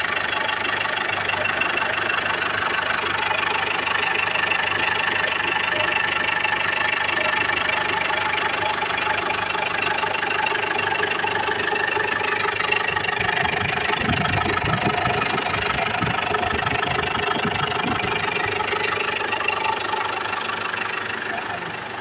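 An overhauled Ford Ranger WE engine idles steadily and loudly nearby, a smooth continuous hum with a brief rumble partway through, and someone speaks over it.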